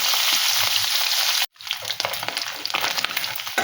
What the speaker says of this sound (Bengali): ট্যাংরা মাছগুলো ওলট পালট করে খুব সুন্দর করে ভেজে নেব